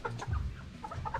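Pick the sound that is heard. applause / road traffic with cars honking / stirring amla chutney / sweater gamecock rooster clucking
sweater gamecock rooster clucking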